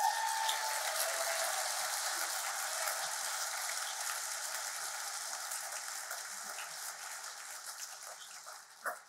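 Sustained audience applause fills a hall during a political speech, a steady dense wash of clapping that holds at an even level and fades slightly toward the end, with no voices over it.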